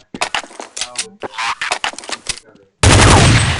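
Rapid bursts of gunfire in Counter-Strike 1.6 crackle in quick succession, followed by a sudden loud blast of noise that cuts off the shots.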